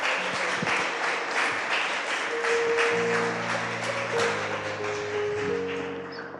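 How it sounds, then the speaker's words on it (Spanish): A church congregation applauds the mothers, dense steady clapping filling the room for several seconds with a few sustained organ or keyboard tones ringing underneath. "¿Qué tal si le da un aplauso a todas las madres?"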